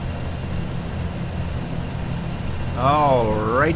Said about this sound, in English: This isn't the fastest tractor in the farm